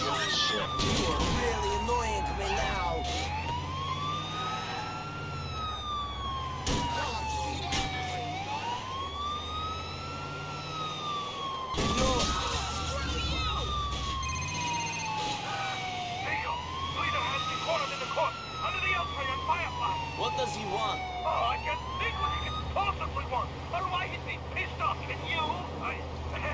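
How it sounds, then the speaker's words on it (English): A police car siren in GTA 4 wails in a long, repeating rising-and-falling cycle, loud and steady for the whole stretch, with occasional sharp bursts and engine noise beneath and voices talking over it. "I like how there's a police car right there."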